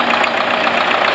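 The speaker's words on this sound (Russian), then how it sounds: "Подъезжает трактор." A tractor approaching during a potato harvest alongside a Grimme harvester gives a loud, steady engine drone with a rough, knocking texture and no break.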